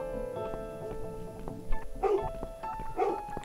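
A dog in the video game The Cat Lady gives two short, sharp yips a second apart, set against a low steady in-game hum.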